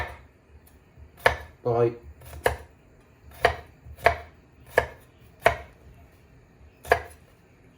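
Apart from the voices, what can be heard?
chopping onion or shallot with a knife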